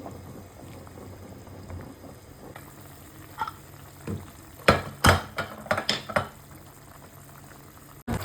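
Beef frying and braising in a pan as kosha, steady sizzle with stirring scrapes and clatters growing busier toward the end, close and alone without talk.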